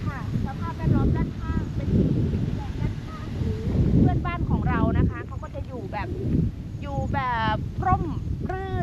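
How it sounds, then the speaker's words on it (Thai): Cool wind gusts across open farmland in Chaiyaphum, Thailand, buffeting the microphone with a constant low rumble while someone talks throughout. "บรรยากาศดีลมเย็นแบบนี้นะคะ"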